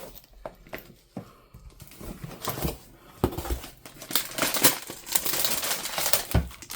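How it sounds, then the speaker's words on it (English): Plastic packaging crinkles and rustles in irregular bursts as scrapbooking and junk-journal supplies are pulled from a mystery box, close and fairly quiet, with taps and scrapes between the crinkles. "You're going to hear some crinkling."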